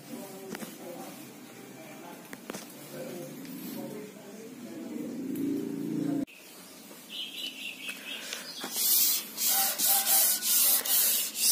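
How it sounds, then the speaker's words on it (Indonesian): Repeated scratchy rubbing of 700-grit sandpaper over a varnished teak door, steady at first then in short rhythmic strokes growing louder, with faint background noise. "kita amplas dulu dengan amplas 700"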